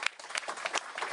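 Brief burst of audience clapping at the Global AI Summit conference in Paris, a quick scatter of distinct hand claps from a modest crowd.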